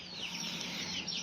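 Broiler chickens clucking nearby in a steady overlapping chorus of shrill calls, no voices over them.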